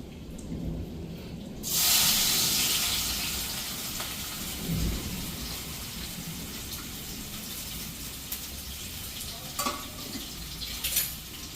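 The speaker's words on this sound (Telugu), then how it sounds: "నూనె బాగా కాగిందండి ఇప్పుడు దీంట్లో పచ్చిమిరపకాయలు కరివేపాకు" Green chillies, curry leaves and onions hit hot oil with a sudden loud crackling burst that settles into a steady sizzle, with occasional stirring scrapes, close and without talk.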